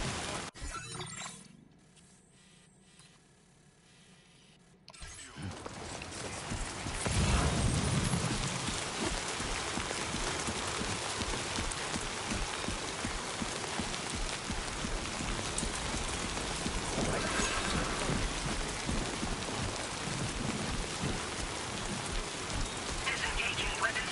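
Steady rain pattering on surfaces in the video game Death Stranding 2, starting after a quiet muffled opening and then filling the scene as a dense, even hiss with faint rumbles.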